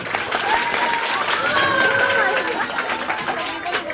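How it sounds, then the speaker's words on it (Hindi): Loud, sustained applause from an audience at a Teacher's Day event in India, steady clapping filling the whole stretch with some crowd noise mixed in. "जोरदार ताली हो जाए एक बार।"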